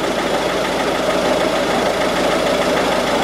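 A car engine idles steadily and close by while the electrical system is being checked, giving a constant, loud mechanical hum with no break throughout.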